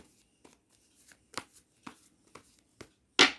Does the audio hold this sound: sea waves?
no